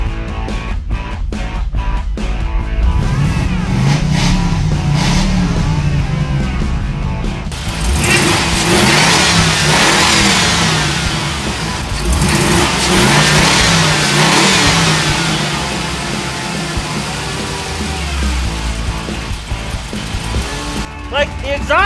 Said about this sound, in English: the exhaust is awful on this thing, but I'll give you the idea of the rumble